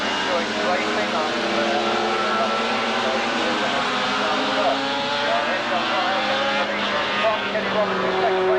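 Racing motorcycles roar along the front straight at Brands Hatch during the 1983 Transatlantic Trophy, a continuous loud wash of high-revving engines rising and falling as they pass.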